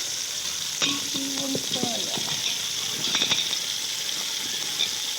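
Brinjal curry frying in a pan gives a steady, close hiss of sizzling oil, with a few stirring scrapes partway through and a voice speaking briefly over it.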